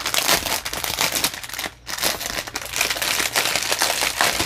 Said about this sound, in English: I'm about to make some crinkling sounds